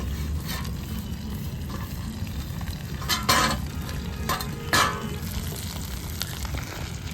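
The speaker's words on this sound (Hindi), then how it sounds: "ये तल रहे हैं कटहल" Pieces of jackfruit fry in hot oil over a strong flame that has been turned down slightly, giving a steady, close sizzle with a few louder spatters and stirring scrapes, and no voices.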